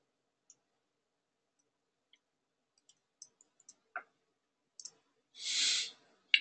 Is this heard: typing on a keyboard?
yes